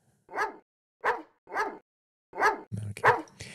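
A dog in a retro horror video game barks in a series of about six sharp barks, evenly spaced at first, then bunching together with some extra game noise at the end.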